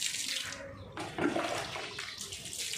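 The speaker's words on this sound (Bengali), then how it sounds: "এই যে জল দেওয়ার স্টাইলটা দেখেছিস, এইটা পাপনকে পাঠাতে হবে।" Water splashes and gushes steadily as it is poured over newly planted trees outdoors, a close, continuous wet rush that swells in the middle and carries on to the end.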